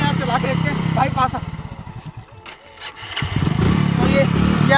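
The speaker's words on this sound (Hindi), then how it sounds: "बाइक फाइनली ऑन हो चुका है" A motorcycle running on cow-dung biogas instead of petrol chugs and revs loudly up close, its rough engine note dipping briefly before surging again, while someone talks over the noise.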